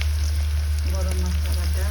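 Onions frying in oil with bay leaf, garlic paste and ginger paste for a country chicken and small potato curry, a steady close sizzle running throughout with no talk.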